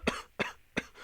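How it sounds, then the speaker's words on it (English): Three short, close coughs in an audio drama, evenly spaced about a third of a second apart, each a dry burst with no talk around them. "Could you stop coughing?"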